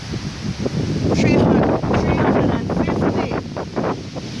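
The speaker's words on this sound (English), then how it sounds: "and the wind is high, and I think I need to take cover" Strong, gusty wind buffets an outdoor microphone with loud low rumbling that swells and eases over a few seconds, while a voice talks underneath.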